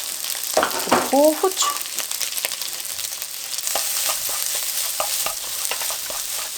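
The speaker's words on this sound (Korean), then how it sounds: "참기름 1숟가락 넣고 섞어줍니다." Shrimp fried rice being stirred in a pan with a spoonful of sesame oil after the heat is turned off, brisk scraping and soft sizzle close up, with a short spoken phrase near the start.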